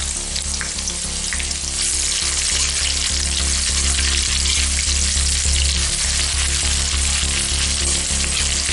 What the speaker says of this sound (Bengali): পেঁয়াজটাও ঠিক এর মধ্যে দিয়ে দেবো।